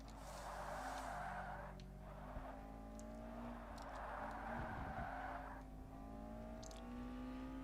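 A Lotus Exige Cup car driven on a test track in Forza Motorsport. The engine hums steadily, rising and falling, with recurring tire squeals through the corners. The sound is fairly faint and continuous, and no one speaks.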